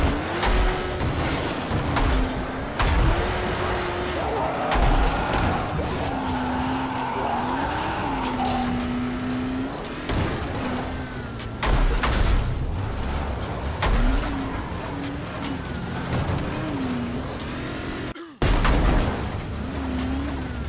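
Car driving in the Dying Light video game, with a steady engine drone whose pitch rises and falls through gear changes and some tire skids, running continuously under occasional talk.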